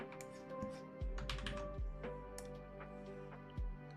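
Computer clicks and light key taps during a late-night sketching session: a steady scatter of dry, close clicks with a few heavier knocks, no voices.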